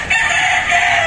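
Gamefowl rooster crowing loudly and close, a single sustained cock-a-doodle-doo filling the whole moment with no talk.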